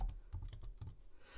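Close-up typing on a computer keyboard during video-editing software work: a quick, quiet run of separate key clicks over about a second and a half, with no voices.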